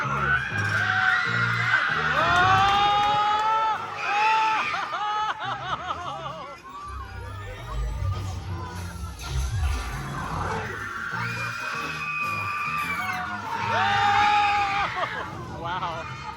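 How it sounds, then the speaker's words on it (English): Riders scream, whoop and laugh excitedly in loud, close bursts on the Guardians of the Galaxy ride at Disney California Adventure, and the screams swell again toward the end. "People are screaming before anything even happens."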